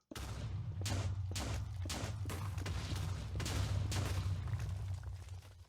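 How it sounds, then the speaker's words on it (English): A rapid series of blasting explosion bursts from a mining tool in modded Minecraft, about a dozen sharp booms over a steady low hum, fairly loud and close. "when you mine stuff, it makes an explosion sound"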